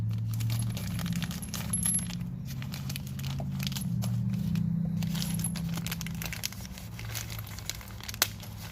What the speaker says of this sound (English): let's go ahead and pull out one of our plates here